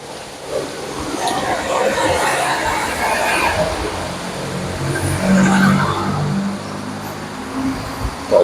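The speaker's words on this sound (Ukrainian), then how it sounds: "Машини, це шум, звісно" Cars pass along a street in Odesa near the sea with a steady traffic roar, swelling as vehicles go by, on a somewhat windy day, and a voice talks faintly underneath.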